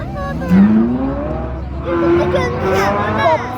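Car engine revving at a Baku car festival, rising roars climbing in pitch under loud chatter and crowd babble nearby.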